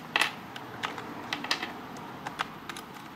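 Keys on a Breeze / Leader SC401 laptop are tapped in a quick irregular series of sharp clicks, close and clear, with no talking.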